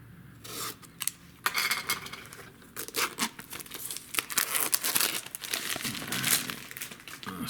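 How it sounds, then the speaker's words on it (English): Funko Spider-Man mystery mini blind box packaging is ripped and torn open by hand, with close crinkling cardboard and foil, sharp tearing bursts and rustling handling noise throughout. "I just rip them right open."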